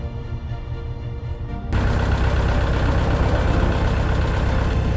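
After a steady low hum, a tractor engine catches abruptly in cold weather and settles into a loud, close, continuous idle with a dense, rough rumble.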